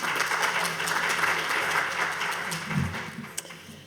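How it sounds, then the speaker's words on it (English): A conference audience at an Africa Industrialization Day event applauds its panelists with a sustained, fairly loud wash of clapping that thins slightly in the final second. "I would like to have an applause for the panelists."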